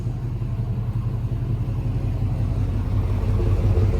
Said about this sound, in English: I love the exhaust sound on it.